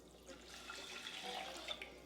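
Water is poured from a measuring cup into a cooking pot holding rinsed rice on a kitchen counter, a soft steady gurgling splash running close and alone for about two seconds.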